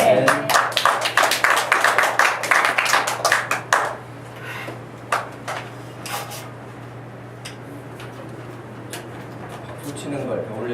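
Church congregation clapping in rhythm during worship, about four seconds of brisk steady claps that stop abruptly, followed by a few scattered claps and a quiet room.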